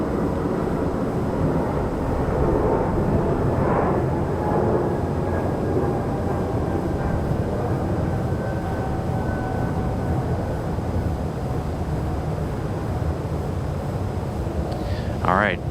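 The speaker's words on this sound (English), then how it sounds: "we got the 777 on final now" A Boeing 777 airliner on final approach at Raleigh-Durham International Airport gives a steady, broad roar that holds evenly throughout, with a faint rising whine near the end.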